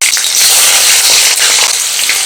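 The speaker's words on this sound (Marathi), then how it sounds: "मिरच्या मी मधून कट करून घेतल्या होत्या त्यामुळे जास्त तेलामध्ये तडतड उडत आहेत" Loud, continuous sizzling and crackling of slit green chilies frying in medium-hot oil, with sharp spattering pops throughout, close and unbroken.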